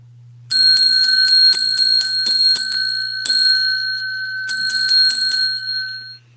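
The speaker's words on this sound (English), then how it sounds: "And I'm going to ring the bell for you." A small bicycle-type bell rings loudly and close in quick repeated dings, about ten strikes, then a pause, one more ring, another pause and a final cluster of rings that fades out, with no one talking.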